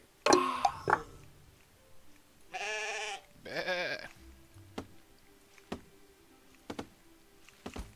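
Sheep bleating in the strategy video game Empire Apart, two clear wavering bleats in the middle, with game clicks and short interface sounds around them.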